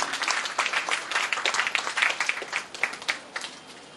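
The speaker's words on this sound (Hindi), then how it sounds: "जोरदार तालियां बजनी चाहिए।" Sustained audience applause at a college carnival event in Nagpur, dense steady clapping from a crowd filling the whole stretch with no one speaking over it.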